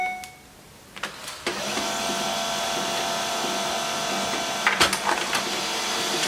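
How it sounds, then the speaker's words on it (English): A laser printer prints PDF sewing pattern pages, starting with a few clicks and mechanical clunks before settling into a steady whirring hum, with more sharp clicks as pages feed near the end. "I have it on my laser printer. Let's go ahead and print that now."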